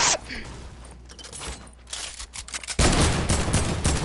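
Rapid bursts of video game gunfire aimed at a trap, dense automatic crackling that pulses through the first seconds, then swells into a louder, sustained barrage near the end.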